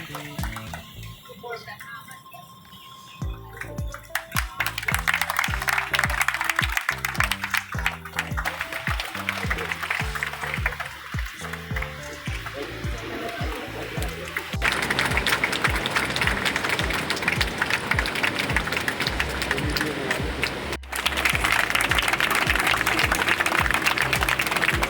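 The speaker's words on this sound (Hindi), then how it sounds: "आप सभी से आग्रह है कि तालियां बजाते रहें, तालियों में कोई कमी ना आए" An audience at a welcome ceremony for an official at an electricity corporation claps in long, loud waves, with music and a voice over a loudspeaker running beneath the clapping.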